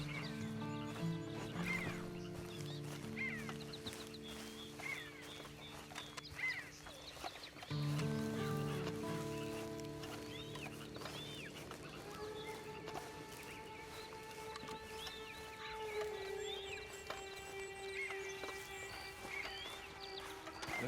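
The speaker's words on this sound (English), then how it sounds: "Then you better get on this horse." Horse whinnies and hoof clip-clop in the Red Dead Redemption 2 video game, set among game music with sustained tones and chirping animal calls, the neighing and footfalls moderately loud through most of the stretch.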